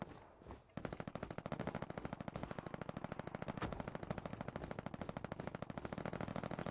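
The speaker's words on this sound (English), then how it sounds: "I hear a lot of shooting" Sustained automatic gunfire from the World War II shooter game Hell Let Loose, rapid and rhythmic bursts of machine-gun shots that start after a brief quiet moment and carry on nearly unbroken, loud and close.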